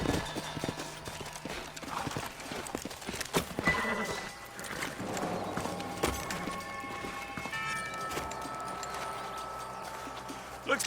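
Horses' hooves clip-clop at a run, with an occasional whinny, amid busy game music and effects in Red Dead Redemption; the activity continues steadily throughout.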